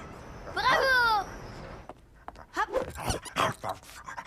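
Cartoon dog Toto barks in a quick burst of yelps near the start, followed by lively children's chatter and playful voices.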